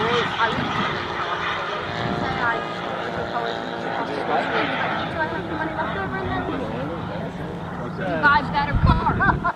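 A 66% scale BD-5 micro jet model flies at the Joe Nall 2025 event, giving a steady, moderately loud turbine whine. Announcer speech and crowd chatter run over it throughout.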